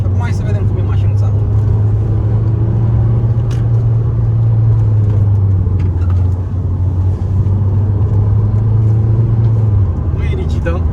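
A VW Scirocco drives along a road, its engine and tyre drone steady and loud throughout with a constant low hum, a few brief rattles and clicks over the top.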